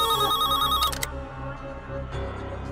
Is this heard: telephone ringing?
yes